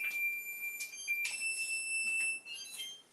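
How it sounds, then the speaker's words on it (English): A kitchen oven timer going off with a steady run of shrill electronic beeps, loud and close, repeating several times before stopping. "Okay, timer."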